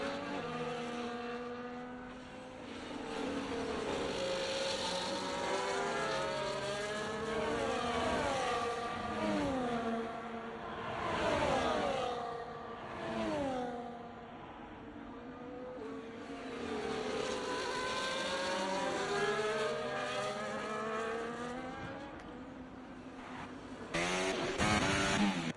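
Simulated race cars on the Baku street circuit in a racing video game, several engines whining and sweeping up and down through gear changes, moderately loud and continuous without talk.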